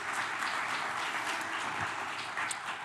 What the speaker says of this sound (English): So a big round of applause for all of the Recognize Good team.